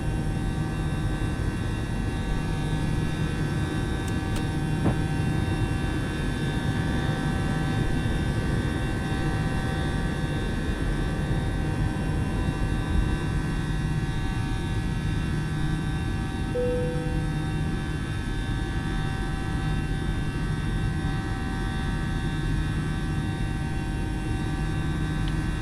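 Eurowings Airbus A318 climbing after takeoff in Microsoft Flight Simulator 2020, a steady, loud, continuous jet engine roar with constant tonal whine throughout.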